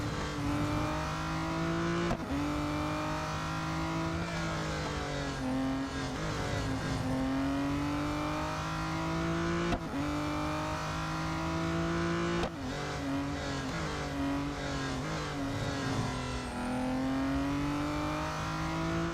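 A V12 race car engine in the Real Racing 3 track day event holds a loud, continuous high whine as the car laps the circuit, pitch rising with each gear, dipping sharply at shifts and braking zones.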